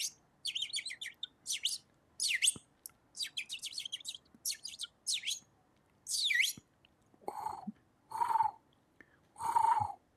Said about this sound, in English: We have birds for you.